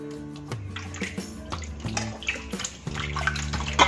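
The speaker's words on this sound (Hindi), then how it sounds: "इसे अच्छे से 4 से 5 पानी से हमें धो लेना है।" Petha (ash gourd) pieces rinsed in water, with steady splashing and sloshing, some drips and a gentle background tone, no talking.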